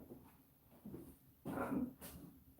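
A dog whimpers behind a closed door, a muffled, close whine swelling briefly before fading, over a faint room hum with no talking.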